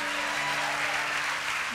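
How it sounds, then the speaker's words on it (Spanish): Church congregation applauding during a Sunday service, a continuous, even wash of clapping from many hands with a faint sustained tone beneath it. "Vamos a dar el mejor aplauso al Rey de Gloria"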